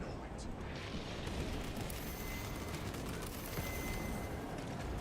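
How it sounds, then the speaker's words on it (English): Plasma cannon fire from a Hellbrute in the Space Marine 2 video game, a dense, continuous roar of blasts and rumbling explosions filling the whole stretch, with a voice faintly underneath. "That plasma cannon attack can suck a whole fucking bag of dicks."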